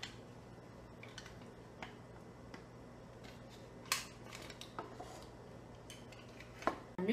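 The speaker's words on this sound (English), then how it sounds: "we're gonna take our sauce right now and we're just gonna stir through our noodles" Lasagna noodles are stirred through sauce in a pan, with scattered soft clinks and scrapes of a utensil against the pan over a quiet background, close and faint.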